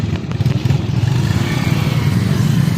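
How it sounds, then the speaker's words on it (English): Many motorbike engines idling and rumbling close by on a countryside road in Bicol, Philippines, a steady low mechanical drone with faint clatter, no talking. "just trying to get through all these motorbikes"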